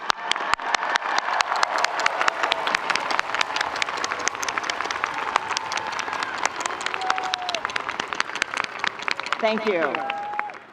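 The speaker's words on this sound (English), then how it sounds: "Now you get to applaud." Audience applause at the Stanford Class of 2022 commencement ceremony, a large crowd clapping steadily and densely for about ten seconds, with a brief spoken voice heard near the end.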